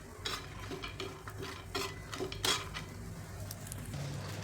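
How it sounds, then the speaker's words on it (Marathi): Dry coconut roasting with a little oil in a pan, heard as quiet, intermittent scraping stirs and light clinks over a faint background sizzle. "तर आता खोबरं भाजायचे. तेल घालायचे थोडं, म्हणजे छान भाजतं सर्व बाजूंनी."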